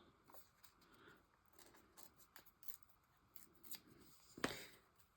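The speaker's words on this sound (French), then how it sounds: "Allez, on va déchirer autour." Paper is torn by hand for a scrapbook collage, with short crackling rips and rustles, close and fairly quiet, ending in one louder, sharper tear.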